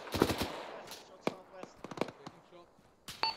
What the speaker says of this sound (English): Taking fire from the southwest.